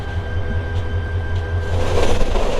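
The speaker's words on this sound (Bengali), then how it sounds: "আর এই যে আমাদের ট্রেন," The Jayantika Express passenger train runs at Sreemangal, a close, loud rumble with rhythmic wheel clatter and a steady hum, the noise swelling near the end.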